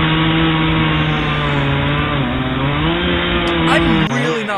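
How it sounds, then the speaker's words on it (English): A chainsaw in the video game Last Stand 2 drones loudly and continuously, its engine pitch wavering and dipping before cutting off near the end. "The chainsaw is significantly shittier."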